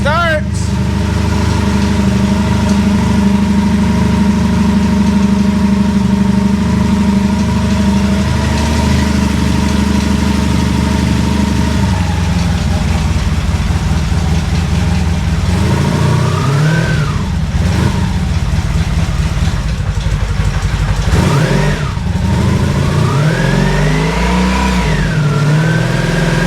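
A 1983 Honda Magna V4 motorcycle engine idles loud and close with a steady low rumble, then revs up and down in several rising and falling surges. Someone speaks over it.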